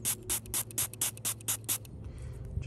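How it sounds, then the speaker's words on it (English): A brand-new squirty bottle of distilled water spraying onto a freshly dug hammered groat coin in a field: about nine short, crisp hissing bursts in a steady rhythm, close and clear, then fading to quiet outdoor background. "Brand new squirty bottle from Unearthed."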